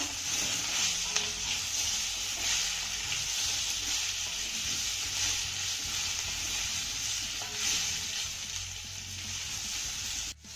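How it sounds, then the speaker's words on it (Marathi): Cabbage vadis fry in a hot tempering as they are stirred in the pan. A steady, hissing sizzle carries on evenly throughout, with faint scraping of stirring and no voices. "ह्या वड्या आपल्याला एक ते दोन मिनिटे चांगल्या परतून घ्यायच्या"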